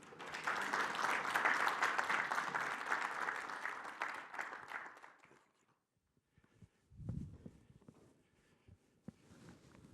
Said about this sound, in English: Please help me in welcoming him to the stage.